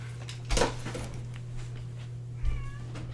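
Two pet cats quarrel nearby, giving two loud, harsh angry cries about two seconds apart, the second bending into a wavering meow, over a low steady electrical hum.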